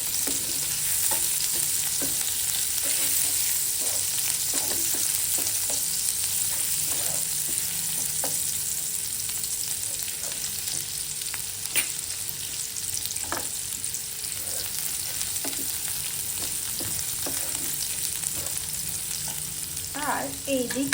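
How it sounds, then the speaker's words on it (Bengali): Chopped onions fry in hot oil for a prawn dish with mustard and poppy seed paste, a steady close sizzle broken by repeated soft scrapes and clicks of a spoon stirring through the pan. "পেঁয়াজ কুচি দিয়ে নেড়ে চেড়ে নিচ্ছি। পেঁয়াজটা ভাজা করে নিচ্ছি।"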